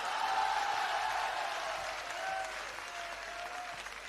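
Audience applause at a Hindi poetry recital, a steady wash of clapping that fills the whole moment and eases slightly toward the end, with no voices over it.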